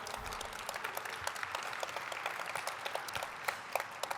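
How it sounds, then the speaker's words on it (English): Audience applause after a diversity and inclusion panel is introduced at a conference, a dense, steady wash of many hands clapping at moderate level with scattered sharper claps, no voices over it. "there will be round of applause for them."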